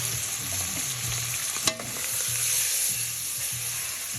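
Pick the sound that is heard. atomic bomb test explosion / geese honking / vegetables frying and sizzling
vegetables frying and sizzling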